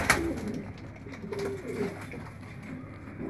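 Pigeons cooing nearby, a few soft low coos rising and falling over a quiet background, with a brief sharper noise at the start.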